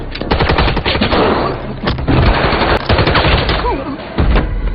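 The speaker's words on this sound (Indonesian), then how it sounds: "Maka terjadilah adu senjata laras panjang di sana." Long-barreled rifles exchange fire in a film gunfight, with rapid, continuous bursts of loud shots stacked on top of each other and no pauses.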